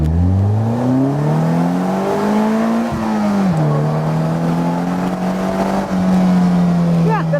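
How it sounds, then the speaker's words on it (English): A 2015 Polaris Slingshot accelerates hard at full throttle in first gear, its engine note climbing steeply in one loud, close, continuous rising roar that briefly dips and then holds high. "Let's see what happens when I floor it in first gear."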